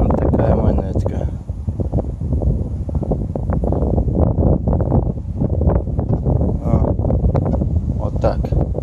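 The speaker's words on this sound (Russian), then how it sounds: "Ветер у нас сегодня" Wind buffets outdoors near an old castle, a constant blustery roar pressing on the microphone throughout while someone speaks over it.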